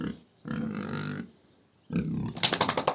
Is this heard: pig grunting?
yes